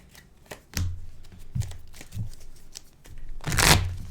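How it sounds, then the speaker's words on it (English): A deck of playing cards being shuffled during a tabletop Magic game, a few quick riffling bursts followed by a louder, longer flutter of cards near the end, close up and fairly quiet. "Then shuffle."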